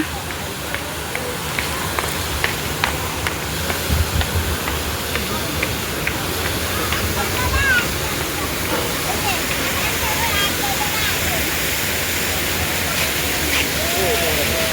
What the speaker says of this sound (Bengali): এদিকটা হচ্ছে ঝর্ণা